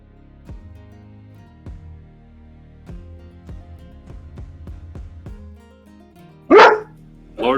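A dog barks twice, loud and close, near the end, after a stretch of quiet with low knocks or taps.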